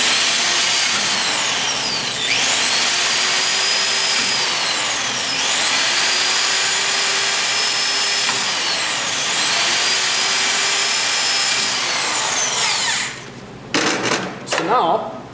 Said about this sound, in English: I got a 3/16 drill bit and just drill inside the swivel